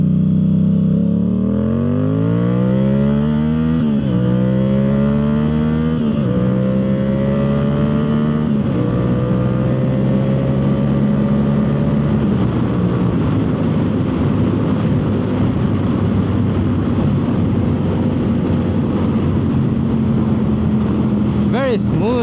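Yamaha YZF R7 with a Yoshimura full exhaust pulls hard through several gears while ridden, each rising rev sweep cut by quick upshifts before settling into a sustained loud cruising drone.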